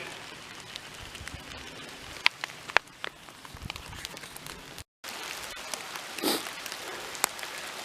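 Steady rain patters on a surface nearby on the Knobstone Trail, a dense hiss of drops with occasional sharper taps, briefly cutting out midway.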